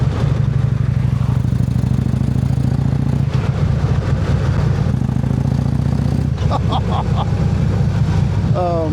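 A Harley-Davidson motorcycle engine runs with a deep, uneven low-pitched thrum close by, briefly blipping partway through, while clattering road noise and some higher chirps come in toward the end.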